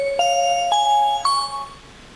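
A phone keypad button press sets off an electronic chime of three clear tones stepping upward in pitch, each ringing on before the next, close and fairly loud with no talking.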